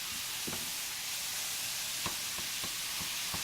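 Steady sizzle of food browning in a pan for a pigs in the blanket casserole, a continuous hiss broken by a few sharp stirring clicks and taps, close and alone without talk.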